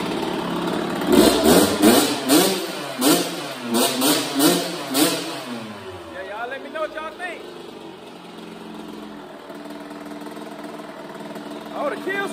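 A rebuilt 2005 Kawasaki KX85 dirt bike engine runs close by, with a series of sharp revving bursts in the first few seconds before it settles into a steady idle. A voice talks briefly partway through.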